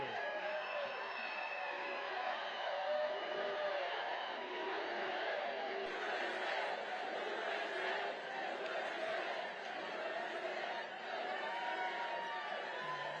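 Large crowd at a California Republican Party convention rally cheering and shouting loudly and steadily throughout, a dense continuous roar with voices mixed in.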